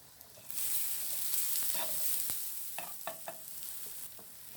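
Grated coconut roasting in a pan with cloves and cinnamon sticks, a steady dry sizzle with a few scraping stirs of a spatula, close and moderately quiet, no voices.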